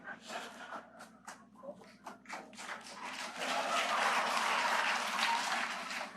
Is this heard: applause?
yes